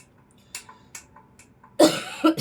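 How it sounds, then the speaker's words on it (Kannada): A woman coughs during a high-neck blouse stitching session indoors. Several short, sharp coughs come close to the microphone, with a louder double cough near the end. "ಸಾರಿ, ಸ್ವಲ್ಪ ಕೆಮ್ಮಿರೋದ್ರಿಂದ ಡಿಸ್ಟರ್ಬ್ ಆಗ್ತಿದ್ರೆ."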